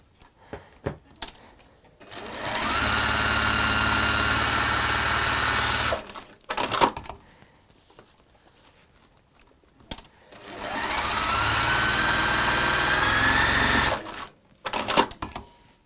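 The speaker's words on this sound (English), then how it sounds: "I'm just going to top stitch down both those ends." A sewing machine top stitches the ends of fabric in two long steady runs of rapid whirring, close and loud, separated by quiet handling clicks and rustles.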